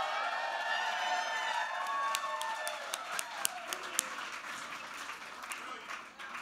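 An awards-ceremony audience at the 2018 Best of the Midwest Awards breaks into applause with scattered cheers and whoops. Sharp individual claps stand out near the end as the noise fades.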